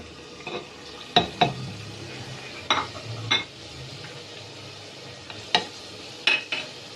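Spices being stirred into cooked tomatoes in a handi matka pot while mutton is prepared: a spoon scrapes and clinks against the pot in irregular, sharp knocks over a soft, steady sizzle.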